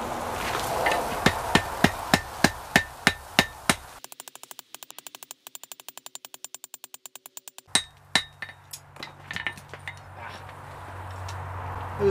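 Hammer blows on a forge-welded steel cable at a coal forge: a run of sharp, evenly spaced metallic strikes, then a patch of fast buzzing clatter, then more ringing blows over a low roar from the fire, close and loud.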